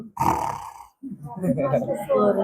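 A voice imitates snoring with two drawn-out, rumbling breaths, the second one stretched and throaty.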